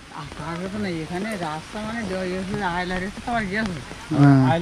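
Rain falls steadily on Sahebkhali village, a soft continuous patter almost buried under a close voice talking the whole time.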